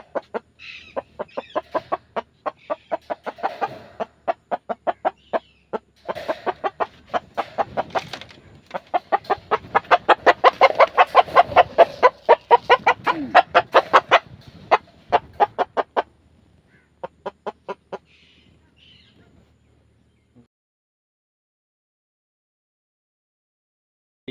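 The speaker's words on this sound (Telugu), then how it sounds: "ఇది పుంజు" A Peru cross breeding rooster clucks and cackles in rapid repeated bursts, loud and close, building to a dense stretch before tapering into sparse calls.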